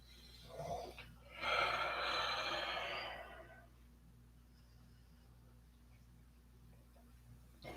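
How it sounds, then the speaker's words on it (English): A deep inhalation during a breathing exercise: a short sniff, then a long, close, airy breath in lasting about two seconds before fading into quiet. "Inhale as you go up."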